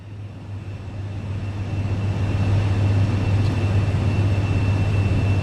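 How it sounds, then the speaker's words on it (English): The single Williams FJ33 turbofan of a Cirrus Vision Jet in the MSFS 2020 simulator gives a steady, loud, droning roar that builds slightly as power is applied, with no one talking. "this is a single engine jet with the Williams FJ33 turbofan jet engine."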